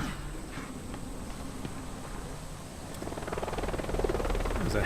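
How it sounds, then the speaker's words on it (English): A helicopter in the video game Deadlight, a steady low rotor drone with faint chopping texture that grows slightly louder toward the end, heard alone without talk. "There's a helicopter again"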